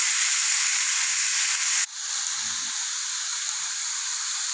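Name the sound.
onions sautéing in oil for street-style samosa filling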